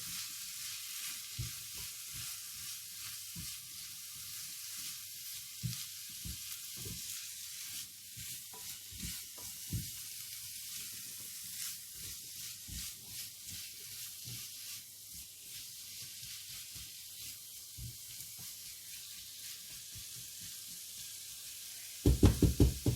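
Chickpeas and tomatoes with spices in a pan, a faint, steady sizzle under repeated soft knocks and scrapes of stirring, ending with a few louder clatters.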